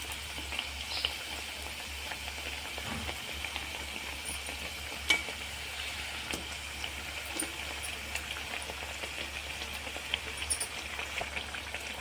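Wheat flour sweets frying in hot oil until golden brown, a soft steady sizzle and crackle with faint scattered pops, low and continuous throughout.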